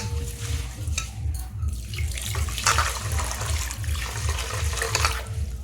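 Water pours steadily over mustard seeds being washed for mango kasundi, a continuous splashing, gurgling stream with a few louder splashes throughout, close and alone without talk.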